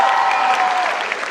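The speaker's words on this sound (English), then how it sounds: "one more round of applause for all of you." Audience applause closing a stage session at a Jaipur talk event: dense, steady clapping from a crowd, loud and close, sustained throughout and easing slightly toward the end.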